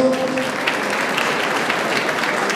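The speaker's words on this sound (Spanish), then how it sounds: "Fuerte aplauso para ellos." An audience gives sustained applause for artists at a hotel event, dense and even clapping that fills the space steadily from start to finish with no talk.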